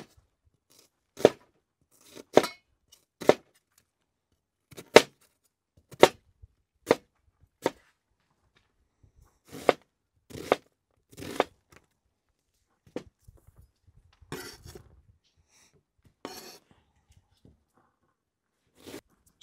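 A knife chops a white onion sharply on a board, crisp cuts in quick irregular clusters with brief pauses, close and otherwise quiet.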